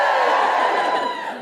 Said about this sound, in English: Give me a cheer if you're not a mother